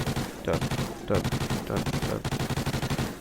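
Rapid bursts of rifle fire in Call of Duty: Ghosts, a steady stream of close, loud shots with short breaks between bursts, mixed with game sound.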